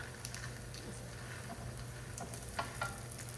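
Birria taco meat and diced onions stir-fried in a hot pan give a steady, close sizzle with occasional scraping stirs and light clinks, no talking.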